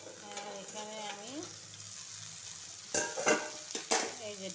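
Okra fries in a pan in a home kitchen, giving a soft steady sizzle under a melodic backing track, with sharper bursts of spattering and stirring clatter near the end.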